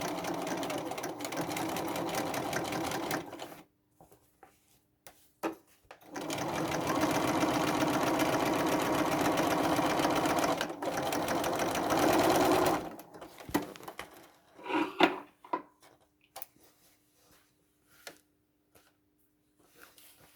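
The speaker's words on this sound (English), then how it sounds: "I normally do reverse sewing there a couple of times just to make it" A domestic sewing machine stitching leather and fabric on an upcycled bag, running in long steady bursts with brief pauses for reverse stitching over a thick seam, then stopping for scattered handling clicks.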